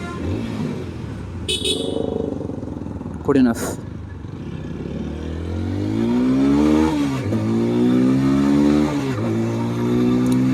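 A 2025 TVS Apache RTR 160 4V motorcycle revving, the 160cc engine rising in pitch through repeated throttle blips to a strong sustained roar, with someone talking briefly over it early on.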